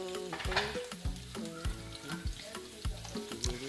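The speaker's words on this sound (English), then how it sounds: "I throw in the green bell pepper, which I freshly cut into tiny bits, and allowed the green pepper to release its juices into the oil" Tiny bits of freshly cut green bell pepper fry in oil for a beans and corn dish, giving a close sizzle with rhythmic scraping strokes from a spoon about every half second and no speech.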